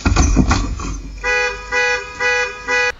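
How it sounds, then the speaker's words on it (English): A car alarm blares in four loud, evenly spaced honking blasts after a brief burst of noisy commotion, its tone steady and close. "then the car alarm went off"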